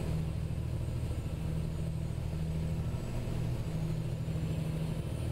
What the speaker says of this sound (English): There's an engine sound mod and there is the actual truck.